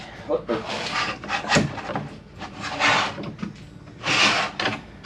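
Wooden sliding and shuffling sounds with a couple of sharp clicks as a wooden drawer is set onto undermount slides and snapped into place.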